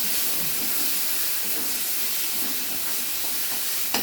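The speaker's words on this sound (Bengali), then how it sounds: "এই যে মশলাটা কষানো হচ্ছে।" Spice paste frying in a pan, a steady close hiss and sizzle that holds evenly throughout, with a faint clink near the end and no talk.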